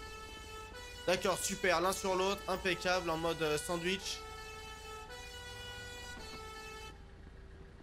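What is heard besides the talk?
fire department boat siren in GTA 5 video game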